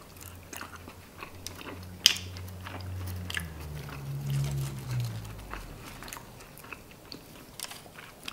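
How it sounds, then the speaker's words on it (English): Barbecue boneless wings from Wingstop being eaten up close, with soft wet biting and steady chewing, quiet and intimate, with a few crisper crunchy bites mixed in. "Barbecue boneless wings"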